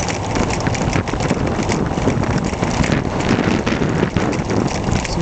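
Strong outdoor wind buffeting the microphone beside a self-propelled bicycle, a loud, steady broadband roar with gusty fluctuations throughout.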